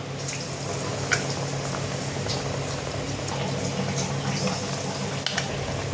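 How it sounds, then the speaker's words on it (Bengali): Aloo chop, potato balls dipped in gram flour batter, frying in hot oil: a steady, soft bubbling sizzle with a few small pops, continuous and moderately close. "এইভাবে সব আলু চপগুলো ভেজে নেব"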